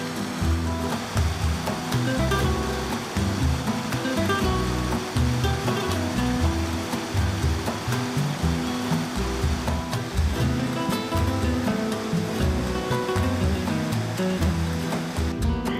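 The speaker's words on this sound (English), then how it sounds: "The fountain represents the Toria river that flows through the city." Water splashes continuously from the Neptune fountain in Valencia, which represents the Turia river, producing a loud, steady rushing spatter with busy city ambience behind it.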